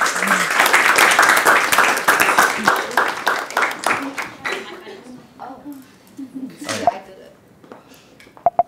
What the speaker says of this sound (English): let's give another round of applause for Sophia.